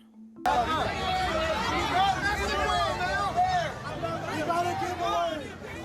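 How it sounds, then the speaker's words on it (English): A dense crowd at the OC Fair surges and chatters, many overlapping voices and excited shouts forming a loud, continuous babble up close. "You're looking at a crowd surge at the OC Fair over the weekend"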